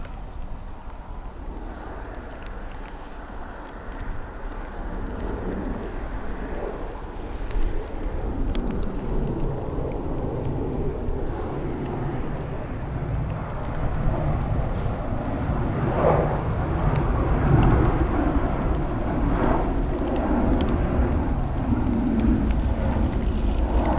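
An airliner at Dublin Airport applies a short burst of reverse thrust, a distant low engine roar that builds gradually and swells toward the end under steady background rumble.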